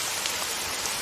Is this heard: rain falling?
yes